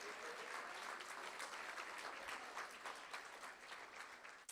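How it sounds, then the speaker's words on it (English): An audience at a school board meeting claps for student artists, a dense steady patter of many hands at a moderate distance, sustained throughout and trailing off at the end. "Let's give them one more big round of applause."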